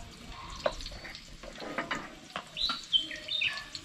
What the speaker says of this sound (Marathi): पक्ष्याचा आवाज तुझ्यापेक्षा जास्त